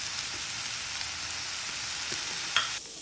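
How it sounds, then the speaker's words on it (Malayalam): Potatoes and carrot sauté in a pan with a soft, even sizzle of oil, fairly quiet and close, with a small clink of stirring near the end. "അത് രണ്ടും ഒന്ന് നമുക്ക് വഴറ്റിയെടുക്കാം."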